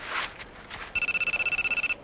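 A mobile phone belonging to the boss rings in a dubbed anime scene, a fast electronic trill repeating about fifteen times over a second, loud and clear after a moment of quiet footsteps.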